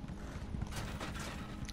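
Horse hooves clip-clop in The Elder Scrolls Online, a steady run of quiet hoofbeats under a low mechanical hum for under two seconds.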